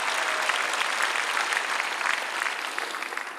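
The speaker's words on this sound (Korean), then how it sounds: "박수로 하나님께 영광 돌리고" Broad applause from a church congregation at a unification prayer rally at the War Memorial in Yongsan, Seoul, a dense steady wash of clapping heard alone throughout.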